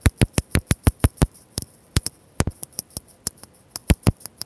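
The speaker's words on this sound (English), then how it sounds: "Are you guys hearing this tapping?" Sharp tapping picked up by a loose, cheap microphone during a live stream, about two dozen quick dry clicks in an uneven rhythm, close and fairly loud, with no talking.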